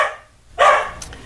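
Dogs bark at the postman, one sharp loud bark close by after a quieter earlier yap, with nothing else around it.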